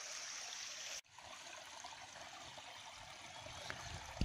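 Water trickles and flows steadily in a small stream, with a soft continuous babble after a brief cut near the start.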